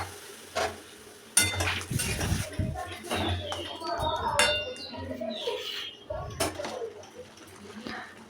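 Metal cookware clatters as a pot of ridge gourd and potato cooked with mustard-chili paste is stirred and covered with its lid, with scattered clinks and scrapes and soft sizzling in between, close and moderately loud.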